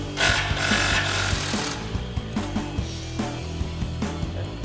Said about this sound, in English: we're going to grab our 15 mil socket on our impact and loosen this up